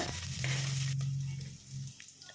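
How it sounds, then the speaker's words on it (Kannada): Sliced onions frying in a pan while cooking mixed vegetable biryani, giving a steady close sizzle with a low hum that fades slightly toward the end. "ಈರುಳ್ಳಿನ ಚೆನ್ನಾಗಿ ಕೆಂಪಗಾಗೋವರೆಗೂ ನಾವು ಫ್ರೈ ಮಾಡ್ಕೊಳ್ಬೇಕಾಗುತ್ತೆ"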